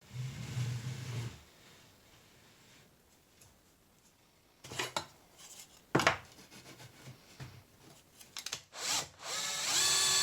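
A power drill drives screws into a wooden plant shelf during assembly, a low whirring burst at the start, then a few short whines and scraping bursts scattered through an otherwise quiet stretch, close by.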